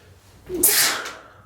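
A single sharp sneeze bursts out with a breathy intake and a hissy, explosive release, close and loud, then fades.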